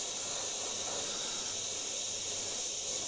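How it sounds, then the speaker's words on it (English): Airbrush spraying paint onto a skull design, a continuous steady hiss of air and paint held at even loudness throughout, close to the microphone and with no talking. "And then spray these in a little bit heavier."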